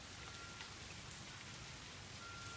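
Steady rain falls outside on a rainy day, a dense, even hiss of drops spread across the whole stretch, faint and unbroken with no voices.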